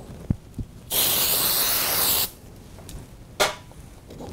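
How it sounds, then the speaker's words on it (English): A short, steady hiss of spray from an aerosol can lasts just over a second, framed by a few small clicks and taps. "I'm just going to spray a little bit of stencil adhesive"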